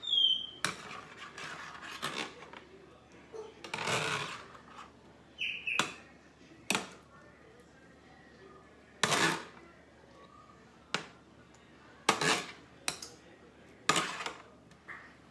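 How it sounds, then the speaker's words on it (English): A spoon scrapes and clinks against a pan while homemade meatballs are flipped and turned, giving several sharp, separate metallic knocks with pauses between them over a quiet background, close and clear, with no voice. "just kind of take a spoon and just kind of flip them around"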